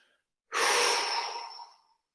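A single long exhale during a morning T-spine rotation mobility exercise, a near breathy rush lasting over a second that slowly fades, alone with no talk.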